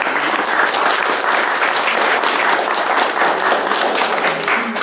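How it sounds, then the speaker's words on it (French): An audience applauds the director of Trévois at a gathering in Le Cateau, steady dense clapping filling the room at full loudness without a break. "Et c'est le directeur de Trévois, on peut l'applaudir parce qu'il s'est déplacé."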